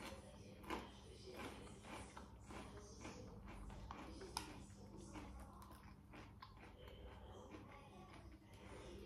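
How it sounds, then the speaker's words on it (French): Close, steady crunching of Vico wavy potato chips with a cream flavour, being chewed at length in rapid, irregular bites with no talking. "Excusez-moi, je mâche longtemps."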